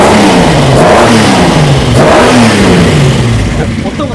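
A classic Nissan S30Z sports car engine revs up and down in several rising and falling sweeps, loud, close by and throaty, with a brief fade near the end.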